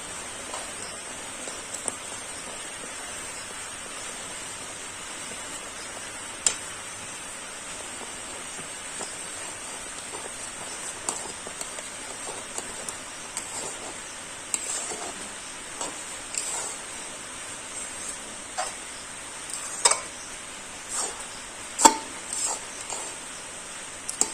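Puffed rice powder stirred little by little into boiling water in a pot, giving a continuous light crackle and bubbling with scattered soft ticks, and no voices.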